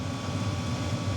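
Air is drawn into the intake of a BougeRV 5 kW diesel heater running in freezing conditions, a steady broadband whoosh over a low rumble, close up and unbroken, with no voices.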